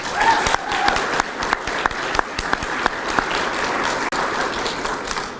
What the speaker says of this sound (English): Let's give our outstanding leaders another round of applause.